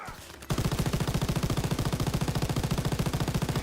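An M42 machine gun fires dismounted in a Call of Duty WWII beach battle, a sustained rapid burst of loud, evenly spaced shots starting abruptly after a short quiet lead-in and continuing without a break.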